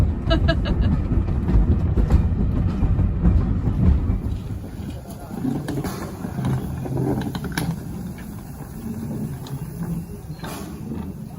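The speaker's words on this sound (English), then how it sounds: "Are you enjoying your train journey?" A train rumbles steadily along the rails with low, continuous rolling noise and occasional knocks, loudest early and easing slightly later.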